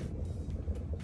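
A Citroën C5X car on the move gives a steady low road and engine rumble with tyre noise, heard from inside the cabin for a brief moment without voices.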